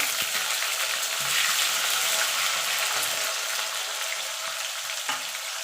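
Potatoes frying in oil in a kadai after a bay leaf and cumin tempering, producing a steady, dense close-up sizzle that carries on evenly throughout with a few faint clicks and no talk.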